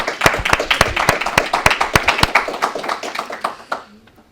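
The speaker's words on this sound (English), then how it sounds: "So again, I'd like to give them a round of applause." A small group at a college awards ceremony claps in a sparse, clearly separated burst of individual hand claps, close and fairly loud, quickly thinning and ending after about four seconds.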